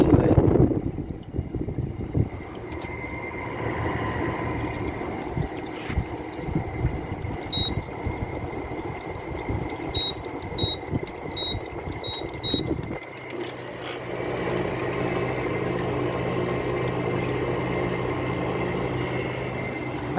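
A low-end Fedders window air conditioner runs with a steady whooshing hum while a short series of faint electronic beeps sounds midway, then the running tone shifts to a different, steady setting.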